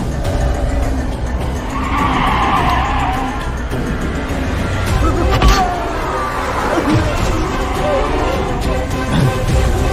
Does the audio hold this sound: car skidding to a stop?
yes